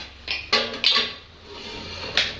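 A pot lid is lifted off a pot of freshly cooked urad dal, giving a few sharp metallic clinks and scrapes close by, with quieter rattles in between.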